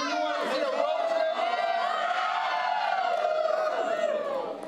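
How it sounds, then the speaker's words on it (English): A SoonerCon convention audience cheers and whoops at a magic show, a dense, sustained wall of crowd voices at full volume from start to finish. "The trick was getting everybody to cheer"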